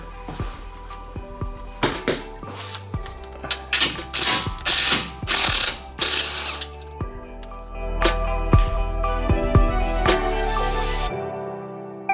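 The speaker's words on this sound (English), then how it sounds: "next we're going to drop the sway bar down" A ratchet wrench clicks rapidly in repeated bursts while backing out sway bar bolts on a truck during a front leveling kit install, close and loud, with a longer continuous ratcheting run near the end.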